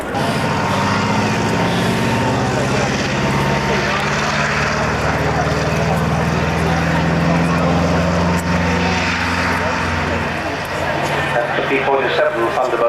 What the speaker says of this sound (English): P-47 Thunderbolt taking off to hold.